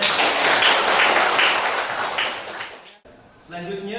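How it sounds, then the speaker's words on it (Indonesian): Applause from a classroom of students, dense and steady clapping for about three seconds before cutting off, followed by a teacher's voice speaking. "Masya Allah, tepuk tangan."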